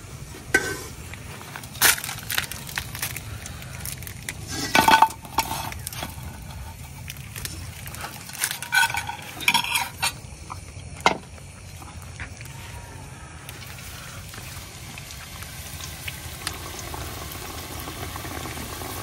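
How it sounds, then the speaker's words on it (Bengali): Potato sticks frying in oil in a karai over a medium flame, with a steady bubbling sizzle throughout and a few louder clattering stirs early on, no voices. "কড়াইয়ের মধ্যে ভাজা শুরু করে দিছি"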